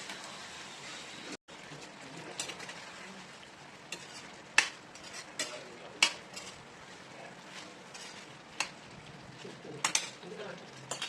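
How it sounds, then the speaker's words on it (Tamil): Pieces of goat liver being stirred and fried in oil in a pan, with a steady sizzle and irregular sharp scrapes and clinks of a utensil against the pan. "இந்த எண்ணெயிலே நல்லா ஃப்ரை பண்ணி எடுக்கணும்"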